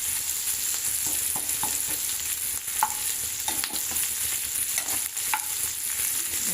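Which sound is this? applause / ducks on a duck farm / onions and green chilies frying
onions and green chilies frying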